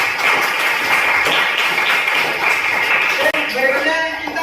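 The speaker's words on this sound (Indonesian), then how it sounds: "Tepuk tangan buat kalian semua" A classroom of students claps together after a group discussion, a steady dense patter of applause lasting throughout, with some voices mixed in.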